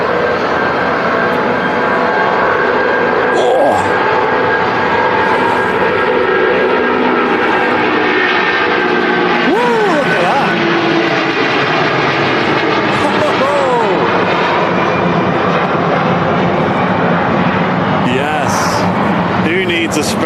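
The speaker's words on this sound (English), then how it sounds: "It's actually an A350 that's never been to Manchester as well." An Airbus A350 airliner taking off at Manchester Airport, a loud, steady roar of jet engines that fills the whole stretch, with people talking over it throughout.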